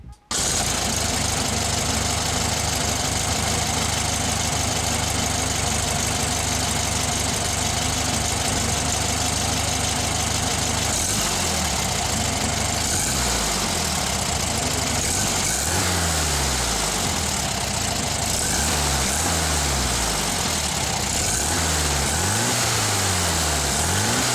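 A 1.3 VW Beetle engine fitted in a Kawasaki Vulcan motorcycle idles loudly close by, a steady chugging rumble that later rises and falls in several short revs.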